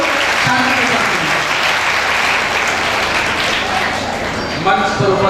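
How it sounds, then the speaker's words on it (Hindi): Loud, sustained applause from an audience in an auditorium at a district women's education and safety campaign event in Amroha, steady clapping throughout with a voice starting up near the end. "जोरदार तालियां उठेंगी"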